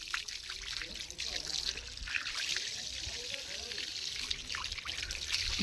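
Water pours and trickles steadily over a black dog being washed, a continuous splashing stream close by while someone talks.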